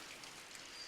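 Steady rain hisses in the city-building game Block'hood, a soft, even wash of falling drops with no talk over it.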